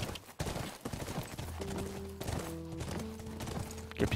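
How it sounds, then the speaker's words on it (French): Hooves of a horse clip-clop at a steady gallop in the video game The Last of Us Remastered. The rhythmic hoofbeats are close and continuous, with sustained musical tones from the game's score layered over them. "Allez, notre premier voyage en cheval."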